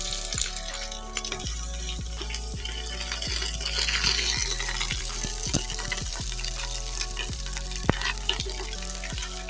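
Garlic and ginger paste with onion sizzling in oil for a white chicken korma, a steady frying hiss with scattered sharp crackles and occasional stirring clinks, close and moderately loud, no talking.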